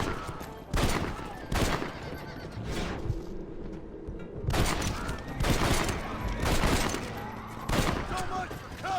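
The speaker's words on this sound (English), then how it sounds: "Just when I thought there'd be no more shooting." Gunfight against rustlers in the Red Dead Redemption video game, with repeated loud gunshots and volleys mixed with horses whinnying and hooves clopping, while voices talk over the action.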